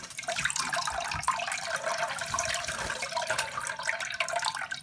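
Water runs steadily from a tap for a green cheek conure's bath, a continuous splashing hiss heard close up with no talking.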